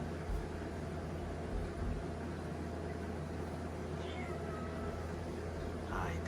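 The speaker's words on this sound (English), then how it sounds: "The cat's here." A cat meowing near a piranha tank, a couple of faint, short meows rising over a constant hum of background noise.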